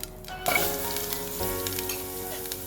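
Hog plums hit hot tempering oil for a Goan Malvani curry with a sudden loud sizzle that keeps crackling steadily and close by.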